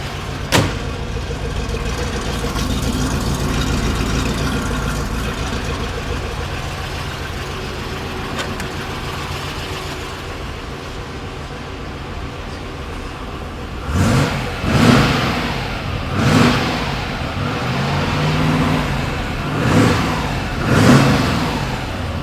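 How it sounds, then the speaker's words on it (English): A 1965 Chevrolet Corvette's 327 V8 with solid lifters idles around 700-800 RPM with a lumpy, loping rumble, then several sharp revs rise and fall in quick bursts near the microphone. "You can listen to the camshaft. Got that nice rumble to it, the solid lifters."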